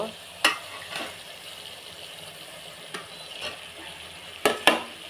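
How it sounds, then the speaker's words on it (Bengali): Fish frying in a thick, spiced masala, a continuous sizzle with occasional sharp clinks and scrapes of a spatula against the pan, close and steady. "এখন এই কষানো মশলার মধ্যে মাছ দিয়ে দিব"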